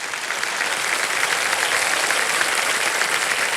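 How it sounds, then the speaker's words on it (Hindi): Studio audience applauding on the set of the Indian TV quiz show Kaun Banega Crorepati, a dense, steady burst of many hands clapping at close range, loud throughout with no voices. "ताली नहीं बजाएंगे?"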